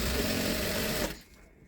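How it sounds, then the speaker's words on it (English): An electric sewing machine stitches an elastic waistband in one loud, steady run for about a second before stopping, leaving only faint room noise. "while sewing, you drag it"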